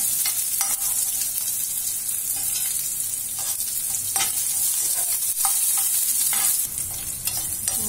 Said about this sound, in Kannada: ಚೆನ್ನಾಗಿ ಬಾಡಿಸ್ಕೋಬೇಕು. ಸ್ವಲ್ಪ ಕೆಂಪಾಗೋವರೆಗೂ ಬೇಯ್ಬೇಕು ಇದರಾಗೆ.